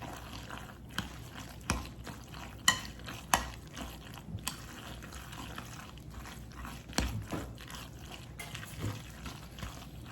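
Chicken macaroni salad being stirred with mayonnaise and sandwich spread in a bowl, soft wet scraping and occasional sharp utensil clicks against the dish, close and moderately quiet with no talking.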